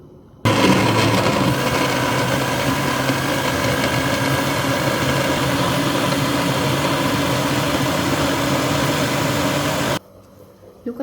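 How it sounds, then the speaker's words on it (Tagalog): A blender whirs loudly and steadily for about nine seconds while blending carrots, beetroot and apple into a smoothie, starting abruptly and stopping sharply, with no talk over it. "Then, blender natin siya."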